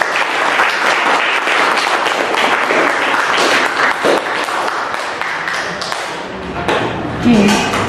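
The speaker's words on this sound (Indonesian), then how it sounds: "Teman-teman kita kasih aplaus lagi dong untuk." An audience applauding after presentations at an event, a dense, loud wash of clapping sustained for several seconds and tapering near the end.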